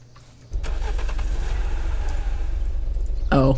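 A car engine in the Unturned game cranks and catches after a short quiet moment, then settles into a steady, loud, close idle rumble with a brief rise at the end.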